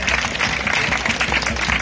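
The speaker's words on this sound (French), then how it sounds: "on peut applaudir Mathéo et on le remercie." Dense applause from an audience at an artistic fencing demonstration fills the space, with many hands clapping at once in a steady, crowded patter.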